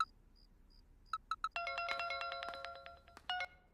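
A phone ringtone plays quietly: a few short spaced beeps, then a bright chiming melody of stacked tones that pauses and briefly resumes near the end.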